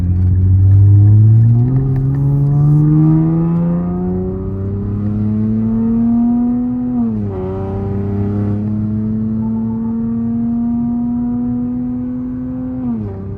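A Nissan Z with upgraded turbos revs hard, its engine note climbing steadily, dipping at a gear change, then holding a loud, close, sustained drone with a faint turbo whir; no one talks.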